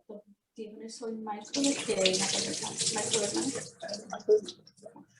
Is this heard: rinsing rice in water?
yes